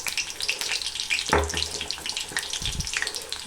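Green chillies fry in a pan with a continuous close sizzle and crackle, broken by a couple of soft clunks from the pan or utensil.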